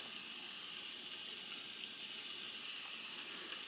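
Danish Crown canned ham heats in a skillet, producing a faint, even sizzle and hiss that runs steadily with no talk over it.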